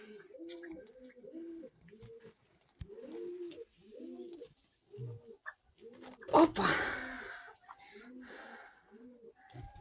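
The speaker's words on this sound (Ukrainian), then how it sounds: "Бачиш, горобці літають, голуби літають." Pigeons coo in repeated low, rounded phrases close by in a rural farmyard, with a brief burst of rustling or flapping midway and a voice speaking softly in between.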